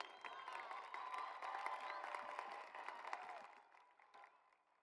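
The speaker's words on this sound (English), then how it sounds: "a big round of applause for Anthony, who has been in this country for 1 year" Crowd at a high school graduation ceremony applauds a student, faint and somewhat distant clapping mixed with scattered cheers and whoops, dying away over the last second.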